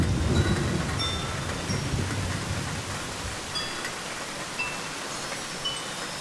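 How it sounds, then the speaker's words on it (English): Steady hiss of rain from a Minecraft weather mod, with a low rumble of thunder rolling at the start before fading into constant downpour. "As well as improving existing sounds, like the sound of thunder."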